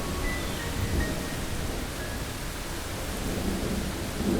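Rain falls at night as a dense, steady hiss of downpour, loud and unbroken throughout with no voices, like a rainstorm sound effect.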